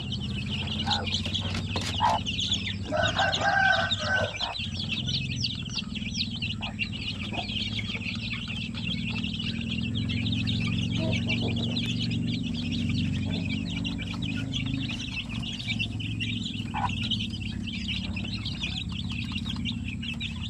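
Several Basilan chicks and a hen cluck and chirp continuously close by, with soft peeping over a low steady background hum and occasional faint voices.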